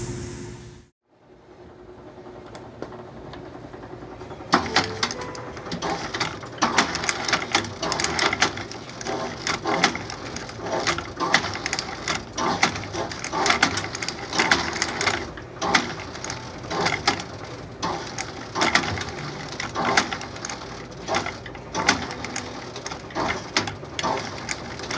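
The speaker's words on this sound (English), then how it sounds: "So I'm gonna go through on our flake stitching machine and actually stitch the middle of the rubber half sole in here" A flake stitching machine sews a rubber half sole onto a Red Wing rough-out engineer boot, running with a loud, steady mechanical clatter of rapid needle strokes and gear chatter that starts after a brief quiet lead-in and continues throughout.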